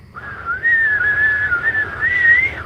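A person imitates a long, wavering whistle out in a dark forest at night, one sustained tone that rises and dips for a couple of seconds over low rumbling background.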